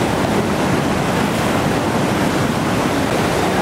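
Whitewater roaring through Sweets Falls rapid on the Gauley River at 4,700 cfs, a dense, steady broadband rush with no breaks, loud and close.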